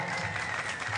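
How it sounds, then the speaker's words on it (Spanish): Audience applause for a folk dance group at a live event, a steady dense wash of clapping filling the whole short moment without pause. "Es aplauso para el grupo Excel de Yanga"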